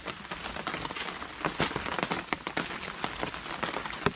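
Rain patters steadily on an Alpkit Soloist tent during a bicycle wild camping trip, a dense close crackle of drops with sharper individual hits scattered throughout, heard alone without voices.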